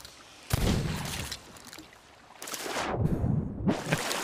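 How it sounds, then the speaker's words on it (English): Gunshots in the pirate video game Sea of Thieves, with two or three loud, booming blasts that ring out and decay, heard apart from any talk over a wash of sea and game ambience. "Who is shooting me?"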